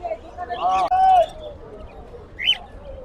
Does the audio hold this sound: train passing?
no